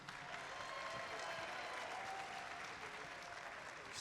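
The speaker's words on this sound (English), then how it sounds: "a quick round of applause for you" Dense, steady applause from a crowd fills the whole stretch at an even level, with no break.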